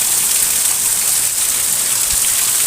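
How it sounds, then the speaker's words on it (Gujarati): Torrential rain falls during a thunderstorm in Dhari, Gujarat, a loud, dense, continuous hiss of drops on surfaces, steady throughout with a brief low thump near the end and no talking. "ધોધમાર વરસાદ વીજળી કડાકા બડાકા સાથે વરસાદ આવ્યો છે."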